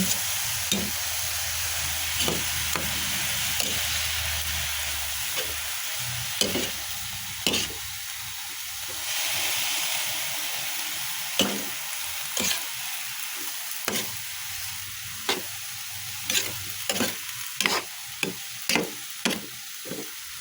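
Bean sprouts and lechon stirred in a frying pan, giving a soft steady sizzle broken by repeated sharp scraping strokes that come faster toward the end.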